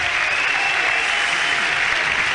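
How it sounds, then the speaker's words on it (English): A rugby stadium crowd at a European Champions Cup match between La Rochelle and Gloucester applauds a player leaving the pitch, a loud steady wash of clapping filling the whole moment. "Yeah, huge applause for"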